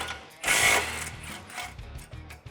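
A socket wrench with an extension works loose 13 mm exhaust bracket bolts under a 2015-2017 Mustang GT, giving a brief burst of close metallic ratcheting and clicking, followed by quieter scattered clinks and handling noises.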